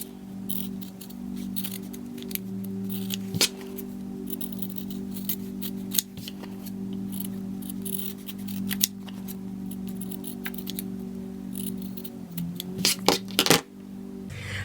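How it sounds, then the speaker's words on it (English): Scissors snip fabric close to the stitching of a machine-embroidered in-the-hoop mug rug, with scattered soft cuts over a steady low hum and a busier cluster of snips near the end. "I'm actually going to cut a little closer to the stitching."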